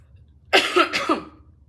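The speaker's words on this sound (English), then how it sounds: "Just getting over a really bad cough" A single short cough, close and fairly loud, with two quick bursts against a quiet background.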